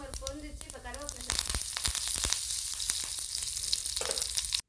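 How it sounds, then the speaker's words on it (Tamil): Mustard seeds and urad dal frying in a little oil for a chutney tempering, a close, steady sizzle with crackling pops, coming in after a short spoken stretch and cutting off abruptly at the end. "சட்னி தாளிக்கிறதுக்காக கொஞ்சமாக எண்ணெய் ஊற்றி கடுகு உளுத்தம்பருப்பு சேர்த்துக்கலாம்"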